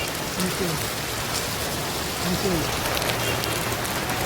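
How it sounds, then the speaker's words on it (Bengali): Heavy rain pours down steadily, a dense continuous hiss of drops hitting surfaces, with faint voices murmuring briefly in the background. "এত বৃষ্টি"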